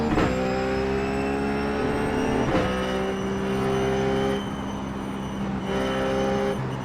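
A Ruf GT3 race car engine in iRacing at Phillip Island revs up with a steady rising harmonic drone, loud and close, broken by a couple of quick gear-shift dips, with no talking.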